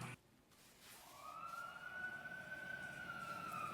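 An emergency siren wails at the opening of a K-pop track, one long rising and steady tone that swells after a brief dark start and holds to the end, moderately loud with no talking.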